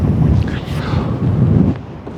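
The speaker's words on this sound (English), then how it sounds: "As you can probably hear, it is windy as you like." Strong, gusting wind buffets the microphone outdoors in a howling gale of up to 36 mph, a dense roar that swells and dips across the whole stretch with no clear talk.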